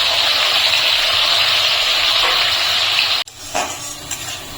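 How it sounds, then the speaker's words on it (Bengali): Onion paste goes into hot oil already seasoned with bay leaves, cinnamon and cardamom, and fries with a loud, dense sizzle that cuts off abruptly, followed by a quieter, wetter bubbling. "তারপর আমি দিয়ে দিচ্ছি পেঁয়াজ বাটাটা।"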